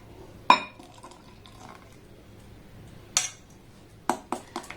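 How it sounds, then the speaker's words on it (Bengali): A mixer grinder jar being rinsed with water at a kitchen counter gives a few sharp, separate clinks and knocks of the jar over a faint, quiet background trickle. "এই জলটা দিয়ে একটু ভালোভাবে মিক্সির জারটাকে আমি ধুয়ে নেব"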